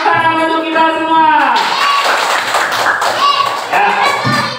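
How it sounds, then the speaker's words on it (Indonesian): Children clapping together in a room, a burst of dense applause following a teacher's call, with voices and scattered thumps mixed in; a sustained tone and speech-like harmonics open the passage before the clapping takes over. "Oke, tepuk tangan untuk kita semua."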